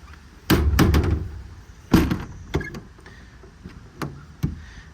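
Drawers on a 14-foot Adkins service body of a 2017 Hino 338 truck sliding and shutting, a series of sharp metallic thunks and clunks, several in quick succession then spaced, close by.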